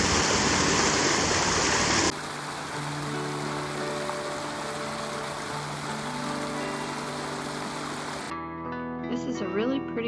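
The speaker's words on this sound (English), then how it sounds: "The Pine River runs through it" The Pine River rushes through a riverside RV park in Bayfield, a steady broadband wash of flowing water heard close and loud, with a change in texture partway through and a brief different sound at the end.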